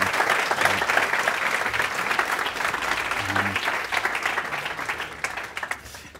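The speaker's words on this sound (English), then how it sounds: "round of applause for Will" An audience claps steadily after a talk at an indoor community open-office event, a dense sustained applause that thins slightly toward the end.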